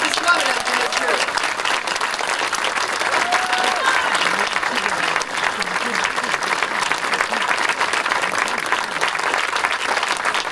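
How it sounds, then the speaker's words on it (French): A theatre audience gives sustained, dense applause for the writers of a historical play, a loud, even roar of many hands with murmured voices and cheers mixed in throughout. "On peut leur donner une bonne main d'applaudissements, mesdames et messieurs."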